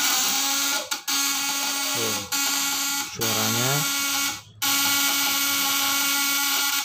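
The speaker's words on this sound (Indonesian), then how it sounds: "Suaranya lebih halus. Kenapa? Karena jumlah lilitannya ini banyak primernya." A high-voltage fish stunner inverter running on 24 volts gives a steady electronic whine and buzz, close and loud, broken by several brief dropouts and pitch sweeps as its setting changes.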